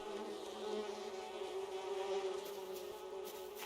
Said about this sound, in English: Bees, I don't like that sound.